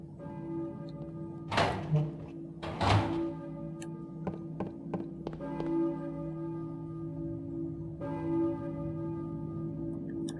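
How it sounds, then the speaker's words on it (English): A church bell tolls slowly and resonantly in the Silent Hill video game, its strikes ringing out with long sustained hum between them, mixed with occasional dull thuds and clanks. "a church bell, maybe? Who's ringing the bell?"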